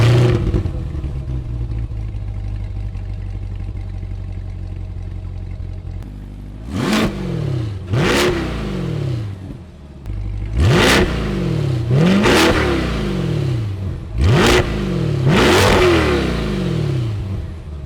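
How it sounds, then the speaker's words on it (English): A 2024 Chevrolet Corvette C8 Z51 with a CORSA Extreme exhaust cold-starts, holding a steady low idle before a run of sharp, loud revs that climb and fall in repeated bursts, with no talk. "We're gonna run through each of the exhaust sequences, starting out with a nice cold start."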